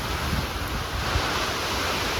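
Strong, gusting wind during rain roars steadily as a broad, loud rush, with no voices.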